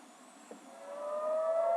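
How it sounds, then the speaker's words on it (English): An air raid siren in Nahariya, a northern Israeli city near the Lebanese border, rises into a steady wailing tone over faint outdoor background, fairly distant and growing louder toward the end. "The sound of siren was caught on camera in the Israeli city of Nahariya, bordering Lebanon on its north and the Mediterranean on its west."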